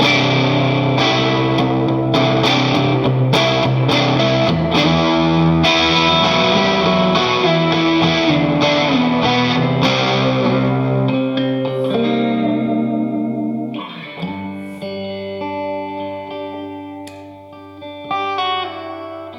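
Heavily effected electric guitar rings out through a Matchless Coldwater Canyon amp, thick with distortion and chorus, sustained chords giving way to sparser, echoing notes toward the end.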